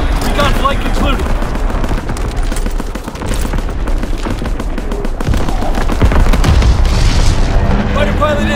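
Artillery barrage in the shooter Call of Duty WW2, dense rolling booms and blasts mixed with rapid gunfire, loud and continuous, with voices and radio chatter over the din.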